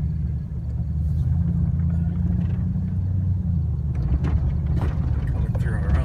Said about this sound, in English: Driving circles, kicking up dust,